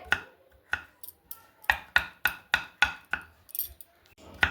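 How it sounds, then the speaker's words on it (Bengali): A knife chops potatoes into small pieces on a board, about a dozen crisp, close chops in a quick, slightly uneven rhythm with short pauses between bursts. "এইভাবে ছোট ছোট পিস করে কিন্তু কেটে নেব আলুগুলোকে"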